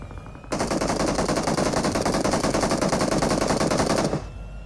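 A long, loud, unbroken burst of automatic gunfire in the battle royale game Peacekeeper Elite, rattling rapidly for several seconds before stopping abruptly.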